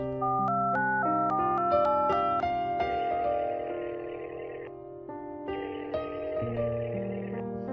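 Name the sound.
phone ringing, call not answered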